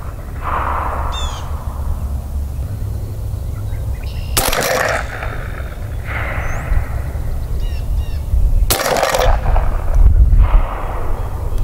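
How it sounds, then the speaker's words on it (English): A 350 Legend rifle fires at a target 50 yards away outdoors. Two loud, sharp shots are clearly separated by several seconds over a steady background rumble, with faint bird calls nearby. "We'll go ahead and shoot a three-shot group."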